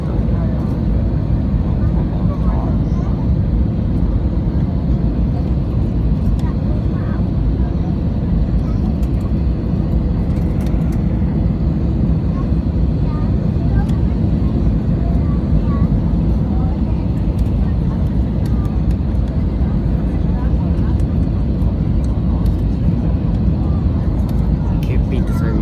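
An EasyJet Airbus A320 rolls along the runway after a windy landing at Berlin Tegel, a steady loud cabin rumble and roar that lasts throughout, with faint clicks on top.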